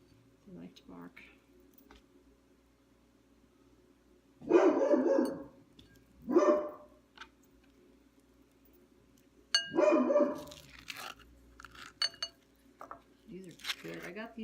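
Several pet dogs bark in a home kitchen while avocados are prepared, three separate loud barking bursts a few seconds apart over a quiet room, with faint clinks of dishes and cutlery.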